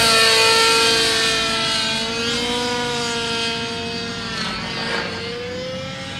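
A T-Rex 700N Nitro RC helicopter flies at an autorotation contest, its nitro engine whining loudly and steadily close by, the pitch sliding up and down as it moves.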